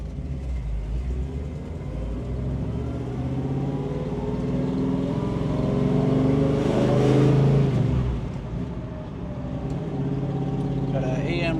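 A 1969 Mustang Mach 1 with a 428 Cobra Jet V8 and four-speed manual cruises in the evening, its deep engine rumble steady from inside the car, swelling as it revs up and easing off, with someone talking over it.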